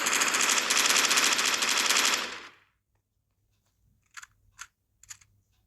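A Minecraft weapon mod gun fires a sustained, loud automatic burst for about two seconds, then after a pause three short, sharp single shots ring out alone.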